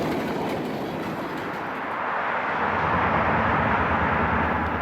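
A freight train rolling through a rail junction where it diverges off the CSX mainline, a steady rumbling roar with faint wheel clatter, moderately close and building slightly in loudness, no talk.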